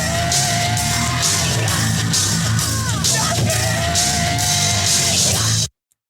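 Two screams spliced into a short show jingle, loud and sustained across a busy musical backing with repeated bursts, then cutting off abruptly to silence.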